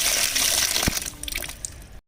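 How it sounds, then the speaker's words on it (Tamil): Tomatoes being rinsed in clean water, with splashing and sloshing across about two seconds, one sharper knock near the middle, close by and moderately loud with no talking. "நல்ல தண்ணியில் வந்து இந்த மாதிரி ஒரு முறை கழுவி எடுத்துக்கணும்"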